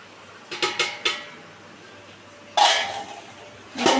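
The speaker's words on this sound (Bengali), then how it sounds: "এবার আমি ঢাকাটা খুলবো" A metal lid comes off a pot of home-cooked mutton biryani in a few short clanks and scrapes, followed by a brighter burst of handling noise and another clatter near the end, close and fairly loud.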